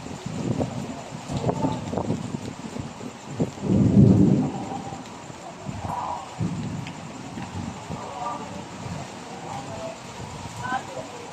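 Thunder rumbling through a heavy rainstorm, with a loud, deep boom peaking near the middle over steady rain and wind, and people talking close by.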